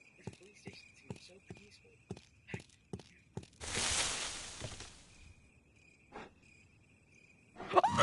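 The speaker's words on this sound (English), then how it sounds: "it's kind of peaceful. I hear crickets." Crickets chirp in short, evenly spaced pulses in a quiet night scene of the Resident Evil Remake video game, broken midway by a burst of rushing noise, with a soft voice near the end.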